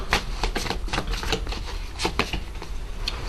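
Tarot cards being shuffled and drawn, a steady run of crisp papery riffles and flicks that continues throughout, fairly close, with no talking.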